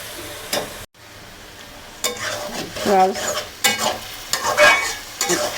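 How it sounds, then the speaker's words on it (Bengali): Goat liver sizzles in a hot pan as it goes in, a crackling fry broken by stirring scrapes and clinks of a utensil against metal, close and moderately loud with no talking. "আমি এখানে কলিজিটা আগে ছাড়বো"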